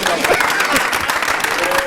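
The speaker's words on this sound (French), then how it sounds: "On va applaudir beaucoup de goût." A studio audience at a French radio-TV aperitif show claps steadily in a dense, continuous patter, with a voice talking over it.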